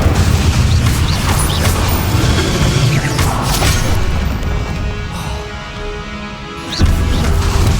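Magic spell blasts in Hogwarts Legacy, the fire and explosion spells Confringo and Incendio, firing as a dense run of booms, crashes and bursts that ends in a louder impact near the close.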